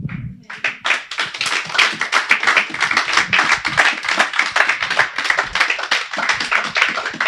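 A church congregation claps in acclaim of the Lord, with many hands striking in a fast, steady, loud rhythm that carries unbroken for several seconds in a reverberant hall.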